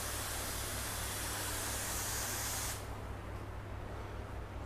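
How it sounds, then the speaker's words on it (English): Fine mist of water sprayed over a dried car panel, a continuous hiss that holds steady for a few seconds, then drops away to a softer background hush. "I have dried the panel and I just wanna mist over, check the beading"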